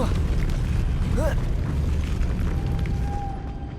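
A Depulso force-push spell cast in the Hogwarts Legacy video game lets out a booming, rumbling burst that stays dense and loud throughout, with a thin whistling tone toward the end.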